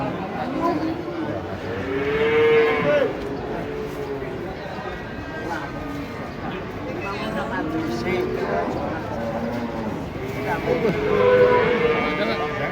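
Deep, drawn-out moos from a giant cow being unloaded from a truck, several calls rising over a noisy crowd of people talking and shouting close by.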